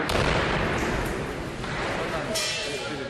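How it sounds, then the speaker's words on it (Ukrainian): Heavy booms from Grad rockets and artillery and small-arms fire crack repeatedly at a distance around Donetsk airport, loud and echoing, with voices audible underneath. "бойовики розстрілюють із градів, гармат та стрілецької зброї"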